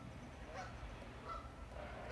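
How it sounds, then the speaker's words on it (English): A Canada goose honks repeatedly in an outdoor neighbourhood setting, the calls coming in a few rough bursts that sound faint and distant over low background rumble. "Canada geese can be very loud, like this one is doing right now."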